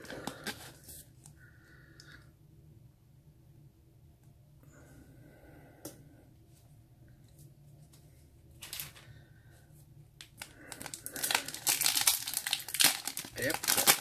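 A Yu-Gi-Oh Duelist Legendary booster pack wrapper crinkles and tears open close by, with quiet scattered rustles first and then a loud burst of crinkling at the end.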